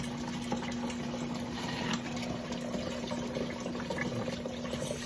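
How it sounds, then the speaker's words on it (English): Water flowing steadily through a siphon, a continuous soft trickle and gurgle with a faint steady tone underneath, quiet and close, without pauses. "And then I'm going to siphon this last one and get a perpetual flow of water."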